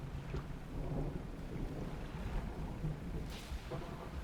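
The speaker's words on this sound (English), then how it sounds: "it's just a flash of lightning" A game thunderclap following a lightning flash in a sea-monster setting, a low rolling rumble with a sharper crack around the middle and a faint rain-like hiss throughout, fairly quiet and without speech.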